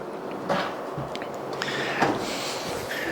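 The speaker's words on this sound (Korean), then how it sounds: "저희의 어떤 이제 고급 주방에 들어가는 이 레그라 서랍이 여기는 들어갔습니다" Legrabox drawer in a high-end kitchen sliding on its runners, with soft rolling movements and light thuds and clicks around the open and close, quiet and near with no voices.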